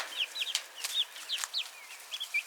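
Young chickens with fading fuzz and new feathers, clucking and chirping softly in short repeated calls, fairly close, with no talking.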